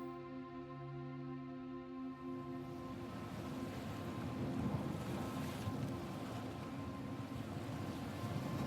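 Ocean waves wash and surge steadily with wind, while a low, steady tonal hum sits beneath; the swell grows fuller and louder after the first couple of seconds, with no voices.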